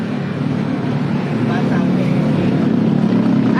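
A group of motorcycles idles and runs outside, a loud steady engine rumble with a rough, continuous texture throughout, while people talk nearby over the noise.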